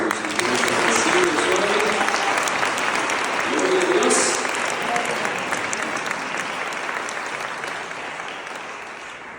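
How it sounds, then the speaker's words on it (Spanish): A church congregation at a Catholic Charismatic Renewal assembly gives strong, sustained applause, a thick wash of many hands clapping at full volume that eases gradually; a voice speaks briefly over it. "Démosle un fuerte aplauso al Señor."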